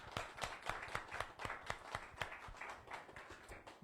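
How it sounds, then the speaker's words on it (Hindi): Rhythmic clapping for a pastor at a church gathering, a faint, fairly even beat of claps from a modest group, slightly ragged in timing, with no talk over it. "एक अच्छी ताली प्रभु के लिए"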